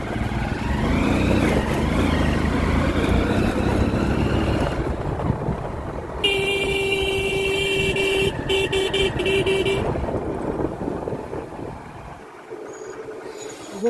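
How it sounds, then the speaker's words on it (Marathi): An electric vehicle moves along a road outdoors, carrying a loud, continuous wash of road and traffic noise, with a steady horn-like tone sounding through the middle stretch before the noise thins near the end. "चार्जिंगची गाडी आहे."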